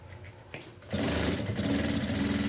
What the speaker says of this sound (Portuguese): vou costurar e vou rebater na parte de cima